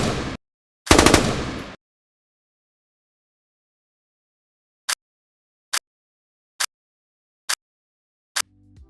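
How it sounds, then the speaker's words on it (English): A large machine gun with a heavy bolt fires two short bursts close by, then five sharp, evenly spaced mechanical clacks ring out alone against silence. "The sound is especially noticeable in larger machine guns with heavier bolts."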